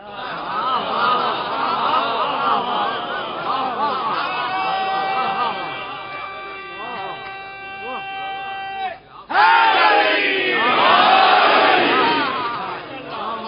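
A crowd at a religious gathering shouts enthusiastic devotional slogans in unison, loud and sustained, with a sustained tonal voice in the middle and a louder surge of chanting near the end.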